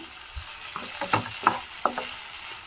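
Potato, capsicum and tomato curry fries in a pan with soft sizzling and a few stirring scrapes and clinks spaced over a couple of seconds, close by with no talking.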